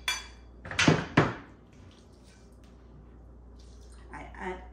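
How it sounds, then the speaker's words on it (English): Water poured from a container onto dry injera makes two quick splashing bursts early on, followed by quieter trickling and faint dripping sounds in a calm kitchen. "I add enough water"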